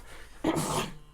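A single short, breathy sneeze bursts out abruptly at a tabletop role-playing session, close and moderately loud against a quiet room.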